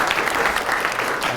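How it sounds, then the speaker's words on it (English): An audience at a chamber speaking event greets a speaker with loud, sustained applause: dense, steady clapping close by with no voices over it. "Please give him a big applause"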